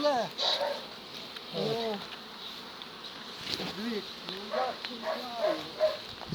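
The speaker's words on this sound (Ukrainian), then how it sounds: "Бджоли повзуть біля вулики." Poisoned honeybees buzz steadily near the hive, a low insect drone running throughout while a person talks intermittently over it.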